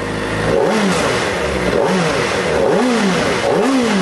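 Kawasaki ZX-4RR motorcycle engine revving repeatedly in bursts of four, each rev rising and falling with a deep bassy exhaust note, loud and close with no talking.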